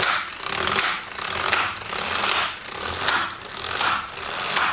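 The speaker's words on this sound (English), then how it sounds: "now we're going to remove the nut from the wheel" A ratchet works the nut off a scooter wheel during a final drive gear set job, making a rapid steady clicking with rhythmic surges, close and loud, with no talk.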